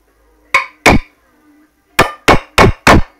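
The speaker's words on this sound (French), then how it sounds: "si vous faites comme moi avec un marteau, il faut y aller mollo" Sharp metallic hammer blows strike an engine bottom end during teardown: two hits, a pause, then four more in a fairly even rhythm, loud and close with a quick ringing decay.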